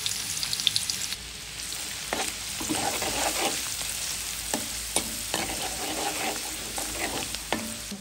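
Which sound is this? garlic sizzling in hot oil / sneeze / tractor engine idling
garlic sizzling in hot oil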